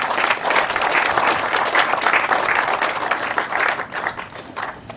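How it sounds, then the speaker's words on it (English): Round of applause from the audience at a groundbreaking ceremony, steady dense clapping throughout with slight swells, no talk over it. "I would like to just give them a round of applause just for thanking them for helping us through this process"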